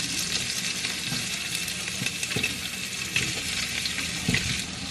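Onion and garlic sauté with vegetables, tomato and leftover steak in a hot pan, giving a constant loud sizzle broken by scraping stirs and occasional pops.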